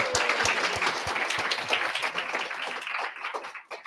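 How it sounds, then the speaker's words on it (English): Audience applause at a Python Christmas meetup: a dense, steady wash of clapping hands from a room full of people, holding strong before thinning out toward the end. "a good point to ask you for applause for Mr. Eugen over there"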